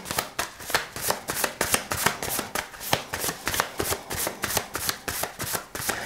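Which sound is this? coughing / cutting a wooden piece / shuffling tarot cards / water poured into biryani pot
shuffling tarot cards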